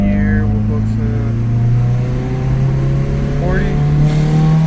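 A Ford Focus SVT is pushed hard in second gear, its engine note climbing steadily and loudly as it accelerates, with a strong, continuous rising drone throughout.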